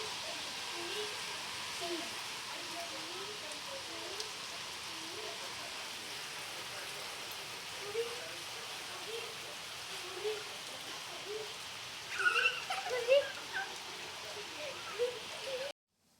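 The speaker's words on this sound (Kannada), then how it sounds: "ಹೊರಗಡೆ ಜೋರು ಮಳೆ ಬರ್ತಾ ಇದೆ." Heavy rain falls steadily outdoors as a broad, even hiss that holds for the whole stretch. A few louder drips and spatters stand out near the end, and faint low sounds run underneath.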